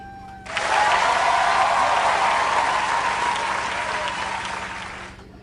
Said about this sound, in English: Big round of applause for A Twist of Leona,